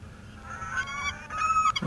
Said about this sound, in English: a load of seagulls falling out about something, as they do